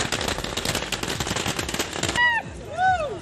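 A string of firecrackers bursts in a rapid, loud crackling volley at a street celebration at Ashoka Circle, then cuts off abruptly as a voice begins speaking.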